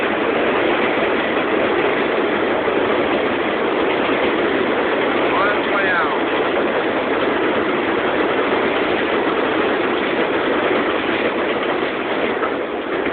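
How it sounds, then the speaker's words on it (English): A New York subway express train rushes through a station with a loud, steady roar of wheels and rails, and a brief metallic squeal rises midway as it passes. "And there's an express train."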